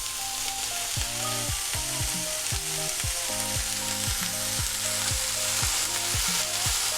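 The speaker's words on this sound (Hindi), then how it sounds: "फिर सेक तेज कर रही हूँ और कॉर्न्स डाल रही हूँ।" Vegetables and sweet corn frying over high heat for a macaroni salad, a steady loud sizzle throughout with repeated rhythmic scraping and stirring strokes of a spatula in the pan, no voices.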